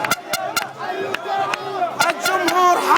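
Syria supporters packed into the stands of a stadium in Kuwait chant loudly in rhythm, with sharp repeated claps or drum hits punctuating the dense crowd roar.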